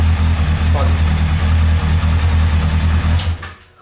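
A Honda CBF-600 motorcycle engine idles after a carburetor refit, a loud, close, steady low rumble that holds evenly for over three seconds before cutting out, with a voice heard briefly over it.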